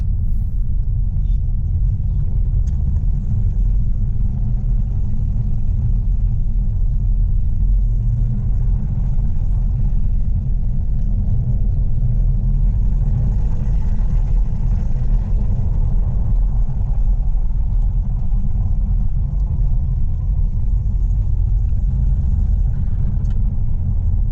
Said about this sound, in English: around the corners you will ease off the gas obviously because it's a blind corner, and you get right back on it and the turbo is just there waiting